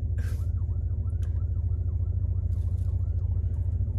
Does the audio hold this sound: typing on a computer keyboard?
no